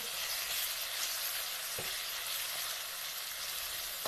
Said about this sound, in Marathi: मिरच्या तळायला लागली मिरच्या हिरवी मिरची छानपैकी